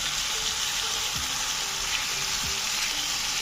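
Chicken roasting in a pan on the stove without an oven, a steady, even sizzle and crackle of frying, close and continuous with no talk.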